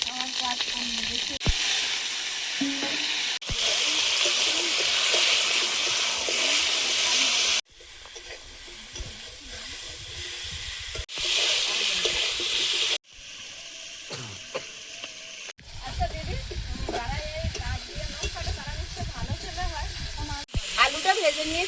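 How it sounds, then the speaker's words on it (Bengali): Fish curry sizzles and fries steadily in a pan, a loud continuous hiss broken by a few brief pauses, with occasional stirring scrapes. "মাছের তরকারিটা বসিয়ে দেবো"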